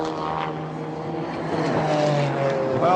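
Toyota and Porsche sports prototypes race at Le Mans in 1998, their engines droning loudly and continuously with rising and falling pitch as the cars pass close together, under a faint background of crowd and track noise.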